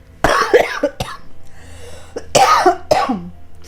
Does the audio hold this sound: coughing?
yes